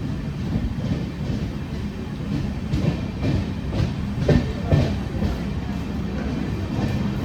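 Palaruvi Express with LHB coaches at Aluva station, heard as a low continuous rumble of rolling rail cars with faint clattering thumps, steady and fairly loud with no voices.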